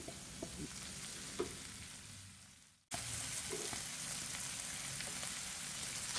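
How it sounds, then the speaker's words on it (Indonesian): Ayam woku with lime leaves and sliced spring onion stalks sizzles in a pan while being stirred, a steady soft frying hiss with occasional scrapes, briefly dropping out mid-way before resuming at full level. "Aduk sampai semua tercampur merata ya."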